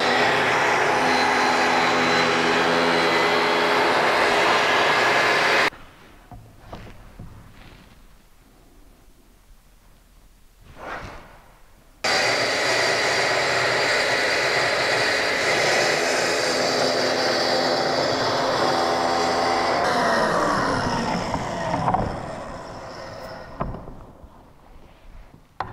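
A jigsaw cuts a workbench saw horse pattern in finish board, a loud sustained buzzing drone that stops abruptly, leaves quiet handling sounds, then starts again and winds down near the end.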